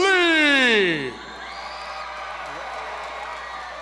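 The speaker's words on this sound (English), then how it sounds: "As the crowd erupts for Josh Lee on his walkout." Arena crowd roaring and cheering at a DFC 7 pro MMA event in Monroe, Louisiana as fighter Josh Lee walks out, opening with a loud rising whoop over the crowd before settling into a steady, sustained roar.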